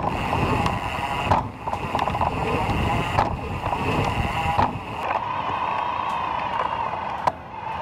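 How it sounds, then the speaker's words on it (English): A Trek Fuel EXE e-bike motor at full assistance, with the microphone mounted on the bottle cage, gives a steady, even whir that runs the whole time under constant wind and rolling noise, with a few brief knocks. "This is what the motor sounds like at full assistance."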